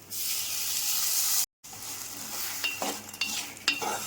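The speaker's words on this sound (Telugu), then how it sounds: "కొద్దిగా నీళ్లు పోసుకొని బెల్లాన్ని కరిగించుకున్నాం" Jaggery melts in a little water in a pan on the stove, a steady hissing sizzle with a brief gap, followed by scraping stirs and light clinks of a spoon against the pan.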